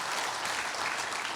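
A church congregation claps together in a dense, steady burst of applause that lasts the whole moment, with no voice over it.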